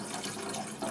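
Water is poured into a cooking pot for boiling dumplings, a soft brief splashing and trickling, faint and close, with no voices.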